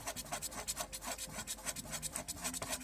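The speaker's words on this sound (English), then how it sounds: "You try and scratch it with your fingernail and the surface isn't broken." A fingernail scrapes over piano black dashboard trim from a Saab 9-3 in quick, even strokes, a close dry rasping that repeats steadily with no speech.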